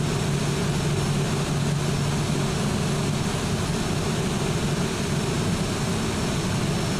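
Airliner in the X-Plane 12 flight simulator rolling down the runway for takeoff, a steady loud engine roar with low drone running throughout, no talk.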